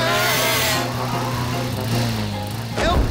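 A lawnmower engine running in a cartoon, a steady droning hum held for a few seconds with a brief rise near the end.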